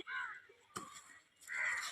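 A crow caws three times, harsh drawn-out calls spaced apart, close and clear with little else around them.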